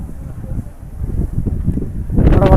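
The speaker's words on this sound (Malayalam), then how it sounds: "നല്ല കാറ്റുണ്ട്." Strong wind buffets the microphone on the summit of Sigiriya Rock in Sri Lanka, a low, rumbling roar that builds and grows louder toward the end.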